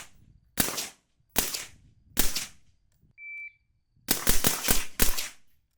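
A suppressed direct-impingement POF rifle with an adjustable gas block fires three spaced shots, then a short electronic beep, then a faster string of about five shots. All are loud, sharp cracks with no speech.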